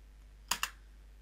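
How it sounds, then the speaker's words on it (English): Two quick, close keystrokes on a computer keyboard, a crisp double click in otherwise quiet surroundings. "Just type yes."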